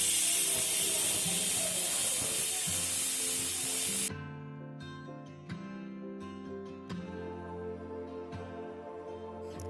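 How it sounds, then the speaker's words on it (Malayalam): A pressure cooker holding vegetable biryani is opened: a loud hissing rush of escaping steam for several seconds, then quieter scraping and clinking as the lid comes off. "കുക്കർ തുറന്ന് നോക്കാം"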